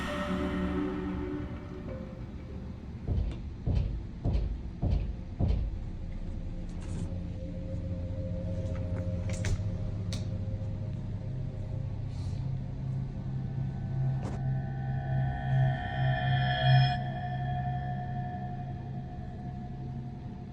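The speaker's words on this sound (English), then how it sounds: "The alarming sound of knocking was coming from his closet." Knocking from inside a closet: about six sharp, evenly spaced raps in quick succession, followed by a low, steady rumble with a few fainter thumps and no voices.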